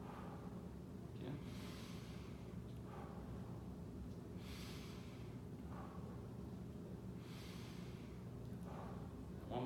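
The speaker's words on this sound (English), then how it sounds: "Take a nice deep breath in and out." A patient's slow, deep breaths in and out come in three evenly spaced breathy swells, soft and close, during a pre-anesthesia lung check.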